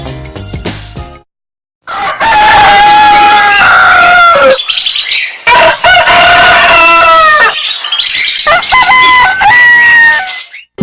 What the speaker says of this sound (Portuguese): O galo mais famoso do Brasil volta a cantar